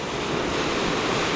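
Ocean waves washing over a rocky shoreline, a continuous loud rushing wash with some wind buffeting the microphone and no voices.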